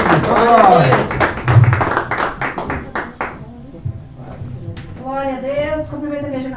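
Church congregation clapping hands for Jesus, a dense run of sharp claps under a loud preaching voice that thins into scattered claps before singing-like speech resumes.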